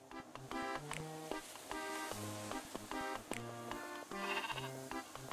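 Sheep in a video game bleat again and again, a series of loud, close, wavering calls overlapping one another with only brief gaps, heard alone without any talking.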